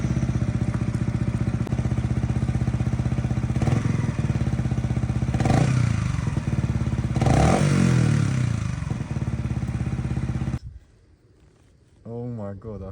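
Yamaha MT125 motorcycle engine with the exhaust baffle removed, a loud close rumble with revving surges, then cutting off abruptly; a voice follows briefly afterward.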